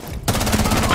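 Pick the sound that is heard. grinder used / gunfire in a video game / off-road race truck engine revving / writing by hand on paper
gunfire in a video game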